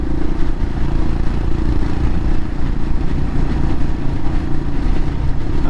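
Royal Enfield Himalayan motorcycle engine running steadily while riding, a loud, continuous low rumble with constant wind and road noise and no pauses.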